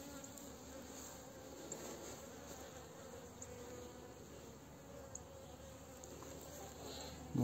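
Honeybees at a beehive where ants share the frames, late in the season before wintering; a steady, dense buzzing drone runs without break, close and fairly loud, with no voices over it.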